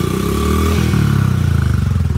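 A 50cc motorcycle engine revs hard nearby, a loud, steady buzzing drone that climbs in pitch with a rattling pulse, with no voices over it.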